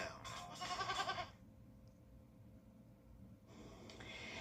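Goats bleat and snort in a few loud, close, wavering calls for about a second, followed by quieter low background rumble and a faint return of noise near the end.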